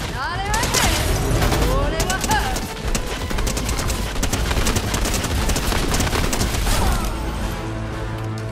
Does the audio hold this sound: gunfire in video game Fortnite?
yes